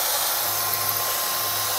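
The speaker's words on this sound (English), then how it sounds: "we'll just mark our holes and then drill them out with a 5/16 drill bit" A power drill whines at a steady high pitch while boring a pilot hole into a 2017 Chevrolet truck frame, loud and close, a continuous grinding buzz with no voices.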